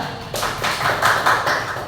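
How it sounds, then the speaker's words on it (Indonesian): Classroom of primary-school pupils applauding together, a short burst of steady, fairly loud clapping with repeated broadband slaps and no talking. "Beri tepuk tangan ya."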